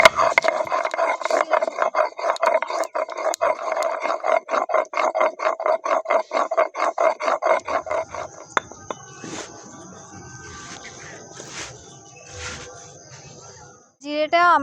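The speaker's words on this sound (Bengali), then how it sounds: "আদাটা আমরা বেটে নেব।" Ginger is ground into a paste with a rapid series of rhythmic, rasping scrapes, close and loud, that fade into quieter scattered rubbing and clatter near the end.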